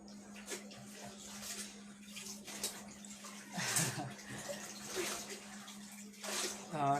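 Dyed cloth is washed in water, with quiet intermittent splashing and sloshing bursts over a steady low hum, and a voice talks faintly in the background.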